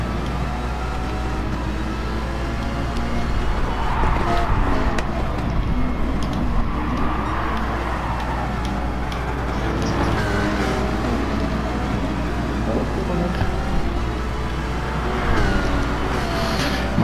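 Cars drifting in Gran Turismo Sport, a continuous engine drone with rising and falling revs and tire noise, steady and fairly loud throughout with no talk.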